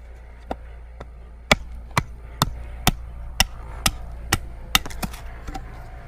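A knife notches a wooden bow drill fire board outdoors in a series of about ten sharp, evenly spaced chopping knocks, close and distinct, over faint background noise.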